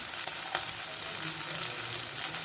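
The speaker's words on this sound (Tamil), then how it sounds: "இப்போ நம்ம கீரையை பூவையும் கீரையும் அதில் மிக்ஸ் பண்ணிக்குவோம்" Drumstick flowers and greens frying in a pan, a dense, even sizzle close by with a couple of soft stirring scrapes near the start.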